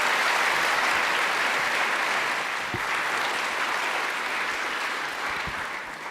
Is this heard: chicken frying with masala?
no